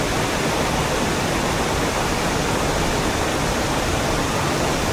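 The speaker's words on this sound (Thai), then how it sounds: "นี่ก็จะเป็นอีกมุมหนึ่งเนาะจะให้ทุกคนได้เห็นมุมของน้ำตกตัดน้ำพาก" Tad Nam Phak waterfall in southern Laos roars as a steady, dense rush of falling water, loud and unbroken throughout with no voices.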